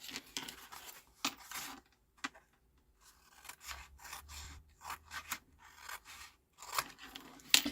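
Scissors snipping through Stampin' Up! card just short of the corner while making a 6x6 folio album: a close, dry series of crisp cuts and scraping rasps in irregular bursts, with brief pauses between strokes and no talking.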